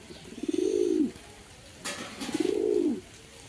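An almond racer pigeon gives two drawn-out, rising and falling coos about a second apart, close and clear against a quiet room, with a brief rustle between them.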